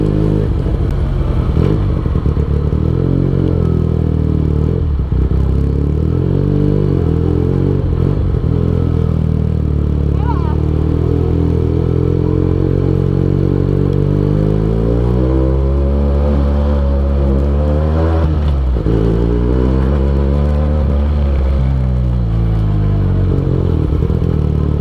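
A Benelli TNT 249 S motorcycle engine and exhaust are heard on a test ride. The loud, close engine runs throughout, with repeated revs rising and falling and a steady throaty drone between them, and there is no talk.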